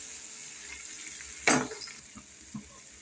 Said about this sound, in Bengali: আমি এর ভিতরে সামান্য একটু জল দিয়ে দিচ্ছি, আর জল দেবো না। দিয়ে আবার একটু নাড়াচাড়া করে দিচ্ছি।